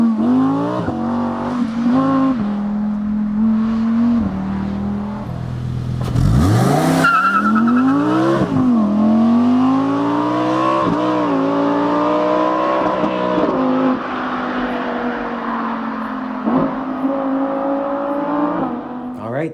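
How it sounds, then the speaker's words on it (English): Audi R8 V10 engine roaring through its exhaust, revving up and down in long sweeping pulls with a sharp blip and crackle partway, loud and close throughout. "taking a listen to that glorious V10 exhaust note"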